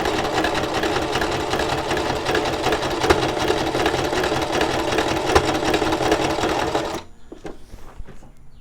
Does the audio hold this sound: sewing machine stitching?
yes